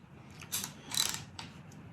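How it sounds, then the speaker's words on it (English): A 3/8 inch ratchet turns in a few quick bursts of close, dry mechanical clicking while a trike motor is installed, with short pauses between strokes and no talking. "ratchet."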